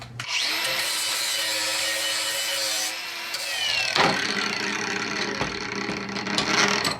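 A hand angle grinder sharpens a mulch-type combination lawnmower blade, giving a steady, loud grinding whine for about three seconds, a brief dip, then harsher scraping bursts of metal on the wheel to the end, with no talk.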